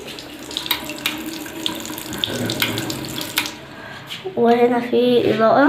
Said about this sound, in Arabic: وهنا عندنا حنفية شغالة